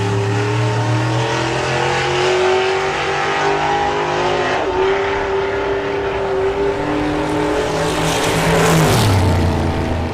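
A drag racing car makes a checkout pass at the STP Greenlight Nationals 2021, its engine roaring loud and steady as it climbs through the gears down the strip, with no talk.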